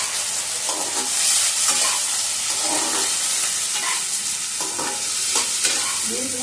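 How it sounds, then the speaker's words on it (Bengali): Beans and green chillies frying in a pan, with capsicum about to go in, are stirred in a steady sizzle with repeated scraping strokes of the spatula, near and moderately loud, without speech. "বিনস ভাজা হচ্ছে"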